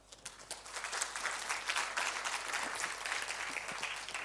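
Audience applause for researchers and insights professionals at a conference session, a fairly faint, steady wash of clapping from a crowd lasting throughout.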